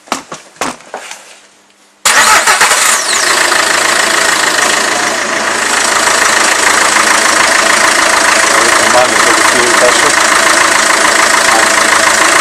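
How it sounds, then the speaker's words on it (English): A car engine cranks with a few sharp clicks and stutters, then catches and settles into a loud, steady, close idle that runs unbroken for about ten seconds, with no talking. "Now we can start the vehicle and monitor the pressure."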